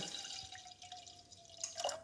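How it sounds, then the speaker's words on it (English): Pomegranate juice poured into a pan while cooking a Persian fesenjan stew, giving a light steady trickle and drip of liquid, fairly quiet, with a brief splashier burst near the end. "I'm going to pour the pomegranate juice into this pan."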